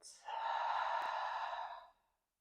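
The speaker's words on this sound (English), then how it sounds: "Inhaling in, exhale out." A single long, breathy exhale through the mouth during a calm yoga stretch, close and soft, ending in silence.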